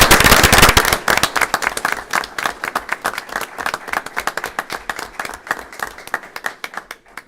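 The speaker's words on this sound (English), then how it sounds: "give a little hand of applause" An audience at a township board of trustees meeting applauding firefighters, a loud burst of dense clapping that quickly thins into scattered, sharp individual claps fading over several seconds.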